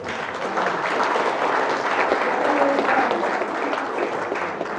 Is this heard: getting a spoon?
no